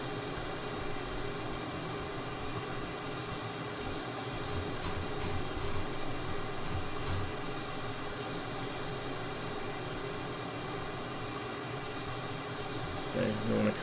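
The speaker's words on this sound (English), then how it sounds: "It's a Cessna T-37, a Tweet" Steady jet whine of a Cessna T-37 Tweet trainer in Microsoft Flight Simulator, a continuous droning engine tone holding level throughout with a brief rise near the end.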